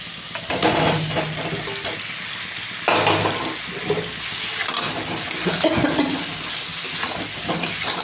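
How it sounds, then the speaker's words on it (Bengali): Potatoes stir-fried with spice paste in a pan for Bengali aloo dum, a steady sizzle broken by scraping stirs and clatters, close and fairly loud. "আলুর সাথে মশলাটাকে একটু কষিয়ে নিই"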